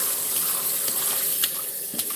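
Water runs and drains from a sink in a steady, close, rushing flow with a bright hiss, continuous and loud throughout with no talk over it.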